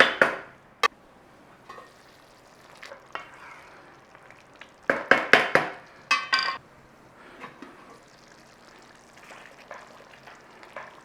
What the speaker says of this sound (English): Okay, just nice and gentle, stir it through.